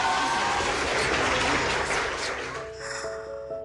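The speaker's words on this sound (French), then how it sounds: "On peut les applaudir." Wedding guests applaud the newlyweds after the civil ceremony declares them married, a close, dense burst of clapping that fades toward the end as voices start to come through.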